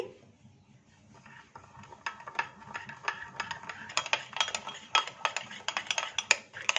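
A spoon stirs cocoa powder and sugar together in a bowl, making quiet scraping at first, then quick, irregular metallic clinks that grow busier and louder as the mixing speeds up.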